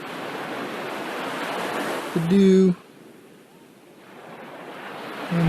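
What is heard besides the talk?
underwater ambience in an Altspace VR world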